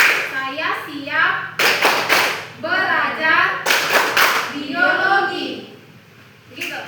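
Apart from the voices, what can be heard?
students clapping the 'tepuk biologi' clap chant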